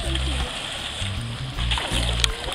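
Water splashes and sloshes in a deep swimming pool as someone tries to swim, continuous churning close to the listener with speech mixed in.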